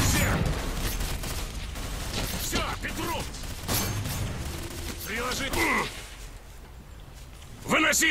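Gunfire and clattering weapon mechanics in the video game Stalker: Call of Pripyat with the Misery mod, a mix of sharp shots, metallic rattles and impacts under a busy, noisy field, with a voice speaking briefly.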